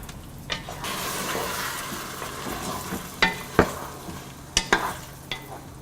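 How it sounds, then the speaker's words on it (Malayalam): Fried cauliflower stirred into Gobi Manchurian gravy in a pan: a steady soft sizzle with wet scraping and a few sharper spoon knocks against the pan near the end, close and fairly quiet. "ഇനി ഇതിലോട്ട് നമ്മൾ ഫ്രൈ ചെയ്ത് വെച്ചിരിക്കുന്ന കോളിഫ്ലവർ ഇട്ട് നന്നായിട്ട് മിക്സ് ചെയ്തെടുക്കുക"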